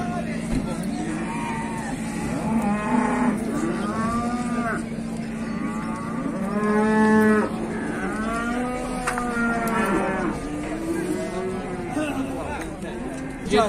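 Cattle at a busy livestock market in Beylagan moo repeatedly, with several long, loud calls close by. Engine hum and crowd chatter run underneath, and people talk through it.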